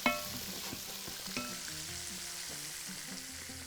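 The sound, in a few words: fish and onions frying in a pan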